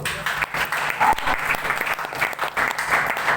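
An audience at a network marketing business seminar claps steadily and continuously, a dense close patter of many hands that holds at an even level throughout.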